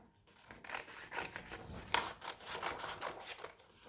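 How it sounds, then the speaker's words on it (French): Scissors cut through paper in a quiet close-up craft activity, a series of short rhythmic snipping and rasping strokes repeating steadily for several seconds, with no voices. "Et à nouveau, je découpe."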